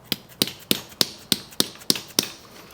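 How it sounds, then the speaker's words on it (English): A hammer taps a metal ring during a Toyota Tacoma needle bearing and bushing repair, giving eight sharp, evenly spaced close strikes about a third of a second apart. "nothing a little tap on a hammer can't fix"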